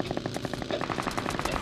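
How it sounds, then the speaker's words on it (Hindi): Rapid automatic gunfire in the video game BGMI on the Erangel map, a quick, steady stream of close shots packed tightly together in one short burst. "ताबड़तोड़ गोलियाँ चलाता है मुझ पर"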